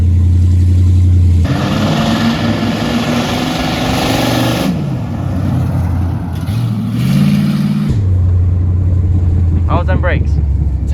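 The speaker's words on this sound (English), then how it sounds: "It does do a burnout." A big block Chevy V8 swapped into an abandoned Silverado pickup revs hard in loud, close bursts with a deep idling rumble between them, rising and falling during a burnout, while people talk nearby.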